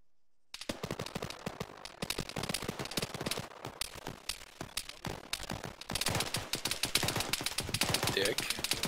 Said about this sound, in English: We're just taking sporadic gunfire and heavy RPG fire at our locations.